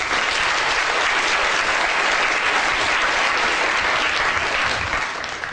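A lecture audience breaks into a long, loud, uniform round of applause, many hands clapping in a dense continuous roar that holds steady throughout.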